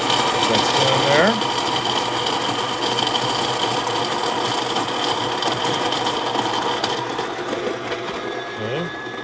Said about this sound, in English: This is a conical burr grinder.